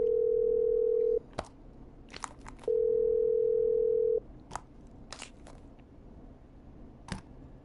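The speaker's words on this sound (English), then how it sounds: "Okay, I'm dialing." A telephone dial tone hums steadily, cuts off, then comes back for a few seconds, with sharp clicks and taps scattered between and after the tones.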